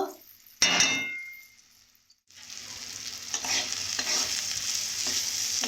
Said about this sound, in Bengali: এইভাবে দু মিনিটের জন্য ভেজে নেব